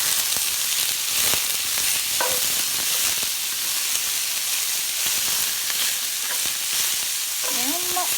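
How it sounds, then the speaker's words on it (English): Butternut squash hash vegetables sauté in a pan, a loud, steady sizzle running throughout with scattered soft scrapes and clicks of stirring close up. "You're going to saute this for another 10 to 15 minutes until everything is cooked through"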